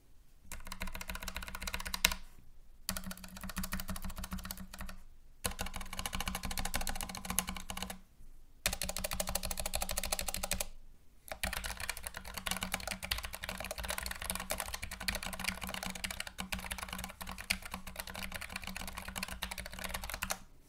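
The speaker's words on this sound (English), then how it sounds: "So let's do a typing test so that you can hear it." Rapid typing on a Logitech MX Mechanical keyboard, a dense stream of clacky keystrokes in bursts separated by short pauses, close and clear.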